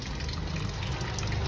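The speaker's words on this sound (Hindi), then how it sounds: "कूलेंट निकल रहा है अपना" Coolant draining steadily from a Maruti Suzuki Ertiga during a 30,000 km service, a continuous close liquid gush and splash with no voices.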